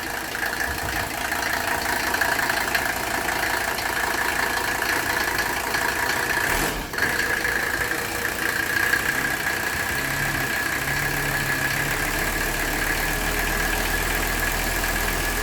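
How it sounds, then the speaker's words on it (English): A 1984 Mercedes-Benz 300SD's OM 617 five-cylinder turbo diesel idles steadily after a cold start, with a loud, continuous clattering rumble and a persistent whine. There is a brief dip partway through, then a low hum thickens near the end, with no voices. "that's a cold start on a OM 617 5-cylinder turbo diesel"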